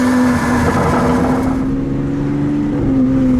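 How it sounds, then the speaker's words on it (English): Ferrari FF V12 driving on a road by a lake: a loud, continuous engine drone with a strong steady tone whose pitch slowly climbs, close and without talk. "This V12 sounds good, and as you can see, we've got Benzene Ben driving in the FF behind us."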